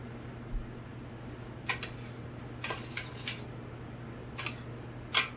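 Utensil stirring steamed vegetables in a pot at home while making a ribeye dinner, giving a few brief, light clinks and scrapes spaced out over a steady low background hum, fairly quiet and with no talking.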